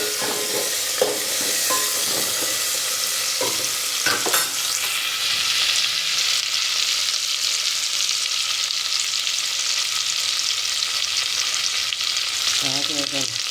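Dal tempering sizzling in a pan as oil and spices fry, a steady loud hiss with scraping spoon strokes stirring through it in the early part and again near the end.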